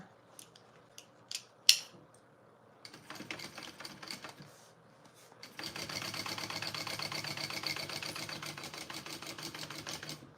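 A domestic sewing machine top-stitches a seam on a garment with a fast, even mechanical whirr that runs steadily for several seconds, after a few sharp clicks and short bursts of stitching.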